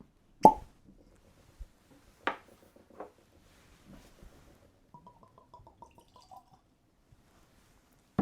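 A sharp single pop from a bourbon bottle's cork stopper, followed by faint scattered clicks and light handling sounds in a quiet room.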